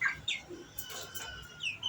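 A tiger chicken gives a few short, high, chirpy clucks, faint and spaced out, with no voices.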